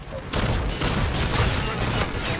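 Sustained gunfire from a regular gun in a first-person shooter video game, a dense, loud burst of rapid shots running for over two seconds after a brief quieter start.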